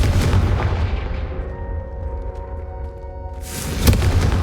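A Confringo fire spell blasts in Hogwarts Legacy, a loud, dense burst of booming fire that rumbles on for a few seconds, then a second sharp blast erupts near the end.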